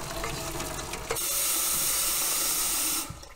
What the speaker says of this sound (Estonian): I use strainer.